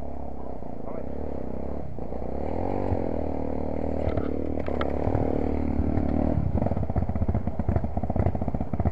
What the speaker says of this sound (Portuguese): puxa a moto um pouquinho pra frente, liga ela aí